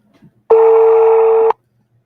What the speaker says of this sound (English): Okay, the phone is ringing.